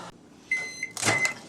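A brief electric hum and whir with a high steady tone, joined by a short clunk, from a microwave oven heating a jar of honey close by.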